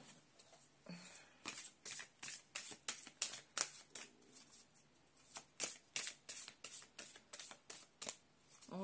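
Oracle cards being shuffled by hand in a quiet room, a steady series of crisp riffling bursts in uneven rhythm, close and fairly soft, with no talking.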